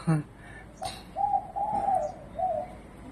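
A young spotted dove, about three to four months old and bought at Chatuchak market, coos close by in a few short, low, repeated phrases with brief pauses.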